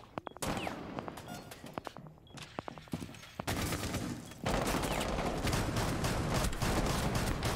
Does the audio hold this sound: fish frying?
no